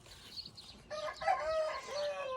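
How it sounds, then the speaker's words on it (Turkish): An Aseel Indian rooster crows once on a farm, a drawn-out, fairly close call after a moment of quieter barnyard sound, with no talk. "Burası Hint horozu diyarı"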